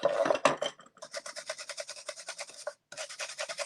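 Rhythmic rasping strokes of a sanding pad on wood, quick back-and-forth scrubbing with a brief pause near the end, close and fairly loud.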